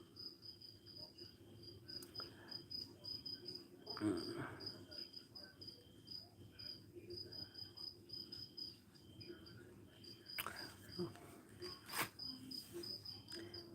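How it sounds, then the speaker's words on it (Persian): Grasshoppers chirp at night with a faint, steady, high repeating trill over a low background hum, broken by a few soft knocks and rustles. "چرچر ملخا."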